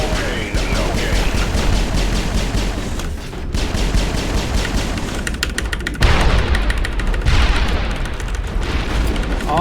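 Rapid bursts of sci-fi gunfire and booming blasts from the Mass Effect video game, dense and loud throughout with repeated rattling volleys and heavy impacts, no talking.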